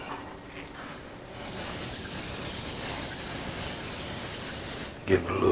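Cooking spray hisses steadily for several seconds onto pork being prepared with parmesan and garlic, ending with a clatter as the spraying stops.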